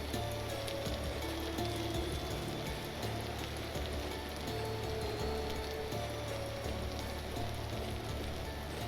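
Steady rain falls throughout the video game Vintage Story, a dense, even hiss of drops on surfaces with no breaks, filling the scene at a constant moderate level.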